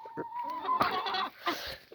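Chickens clucking close by, a run of short, busy clucks and squawks rising and falling, with no talking.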